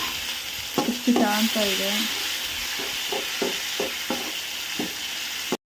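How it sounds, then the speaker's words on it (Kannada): Masala spices sizzle steadily in hot oil while a spoon stirs the pan, giving several soft knocks and scrapes over a continuous hiss. A voice speaks briefly near the start. "ಚೆನ್ನಾಗಿ ಫ್ರೈ ಆಗಬೇಕು ಫ್ರೆಂಡ್ಸ್, ಎಣ್ಣೆದಲ್ಲೇ ಫ್ರೈ ಆದರೆ ಚೆನ್ನಾಗಿರುತ್ತೆ"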